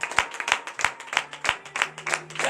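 A church congregation at a morning prayer service claps in a quick, fairly regular rhythm, about eight sharp, close handclaps in a short burst of acclamation, with no voices.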